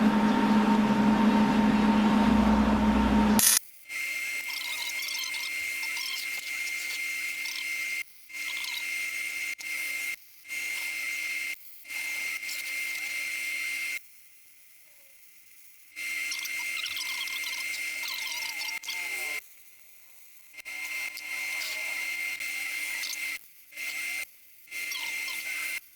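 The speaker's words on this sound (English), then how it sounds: "let's throw a weld in here and see what happens" Welding on coilover suspension parts: an electric arc buzzes and crackles in several separate bursts of a few seconds each, with short silent gaps between them, fairly close and steady.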